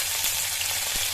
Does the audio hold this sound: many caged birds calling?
no